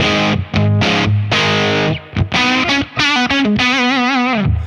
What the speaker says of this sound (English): I don't know how else to describe it than a sort of vintagey overdrive, just a soft but barky sound.